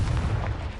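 A Confringo blasting spell explodes in Hogwarts Legacy on PS5 as a single heavy, booming burst that fills the whole brief moment.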